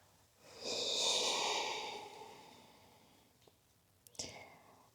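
A long, deep breath in a yoga class swells and fades as a soft, airy inhale and exhale, close and gentle, followed by a few small clicks and rustles.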